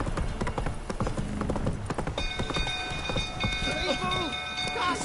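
Horse hooves clip-clop in a steady gallop rhythm in the video game The Witcher 3, mixed with game ambience, music tones and a voice in the background.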